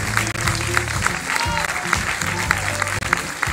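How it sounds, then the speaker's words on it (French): Crowd applause at a festival finale, steady clapping from an audience beneath a sustained low tonal hum of music or amplified sound, with brief dips in the middle. "On les applaudit encore"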